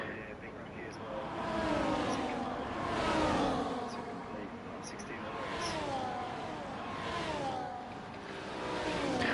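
F1 cars racing in the video game F1 24 at the Spain round, engine whines sweeping up and down in pitch as cars exit the final corner, with commentary over them.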